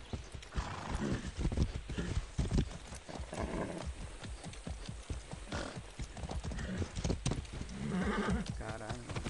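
Horse hooves clip-clop steadily in a video game, a quick repeated rhythm of hoof strikes running throughout with an occasional whinny, close and fairly loud under an ongoing game soundscape.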